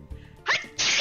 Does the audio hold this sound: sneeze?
yes